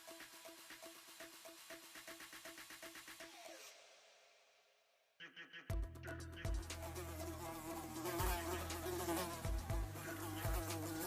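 Flies buzz steadily and close by outdoors, a dense droning hum that drops away briefly into near silence before returning louder and fuller.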